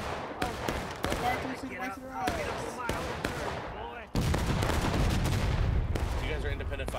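Musket volleys in the American Civil War game War of Rights, sharp loud shots cracking out irregularly close and farther off, with a sustained dense barrage of gunfire at the end and voices shouting between shots.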